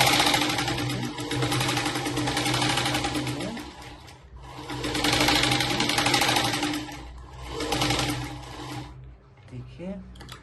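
A sewing machine stitches a blouse, running close and loud in three long bursts with brief pauses between them. A voice talks faintly under the hum.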